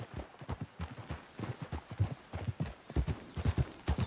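Horse hooves clip-clopping at a steady trot in Red Dead Redemption 2, a brisk rhythmic stream of hoof falls that stays close and clear for the whole stretch.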